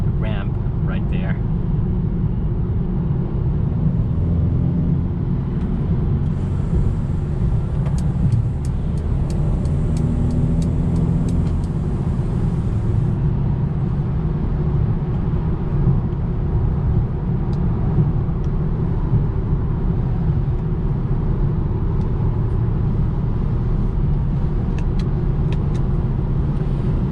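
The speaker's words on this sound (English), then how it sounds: "I'm hearing a little bit of wind noise that is coming from the sunroof and from the back" A 2021 Mercedes-Benz A35 AMG on the road, with a steady interior rush of wind and road noise from the sunroof and rear, a constant loud drone heard throughout.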